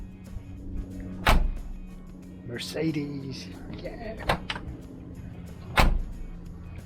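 A Unimog camper's door clunks open and shut with a hollow, tinny metallic sound, lacking any sound deadening or door card, several sharp thuds spaced apart, while someone talks between them.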